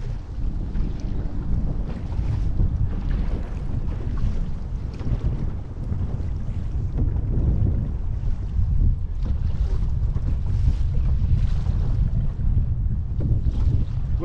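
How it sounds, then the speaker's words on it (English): Strong, gusting wind of about 35 km/h sweeps across open water while a new Esquif canoe is paddled, making continuous low roaring microphone buffeting with faint water splashes underneath. "There's about a 35 kilometer gust on the go right now for wind speed"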